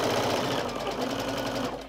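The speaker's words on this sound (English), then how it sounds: "I'm just going to stitch a quarter of an inch either side of the marked line on both sides" A sewing machine stitching quilt seams, a steady loud whirring drone of rapid needle strokes running continuously and close up, easing slightly near the end.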